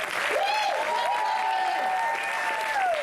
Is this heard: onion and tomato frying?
no